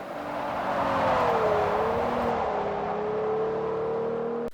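A V12 car engine in the racing game Forza Horizon 4, from the Pirelli car pack, revs hard and then holds a loud, sustained, smooth whine, the pitch dipping slightly and settling before cutting off abruptly.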